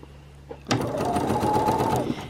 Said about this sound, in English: I just sew everything down like that